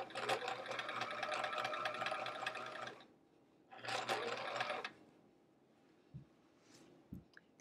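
A sewing machine stitches a quilt border in two quick bursts of rapid whirring, the first about three seconds long and the second shorter, close and clear, followed by a couple of soft knocks.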